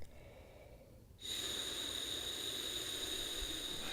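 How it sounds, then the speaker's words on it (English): Air blown through a French horn mouthpiece makes a steady, breathy rushing hiss that begins after about a second and holds evenly to the end, close and fairly loud. "let's practice blowing air through your mouthpiece"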